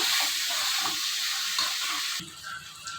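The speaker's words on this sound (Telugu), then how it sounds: "ఆయిల్ వేడెక్కిందండి క్యాప్సికమ్ వేసుకుందాము ఒకసారి కలుపుకుందాము ఇవి కొంచెం పచ్చి వాసన పోయే వరకు ఫ్రై చేసుకుందాము" Capsicum pieces fry in hot oil for a dhaba-style capsicum masala curry, giving a continuous close sizzle broken by a few soft stirring scrapes.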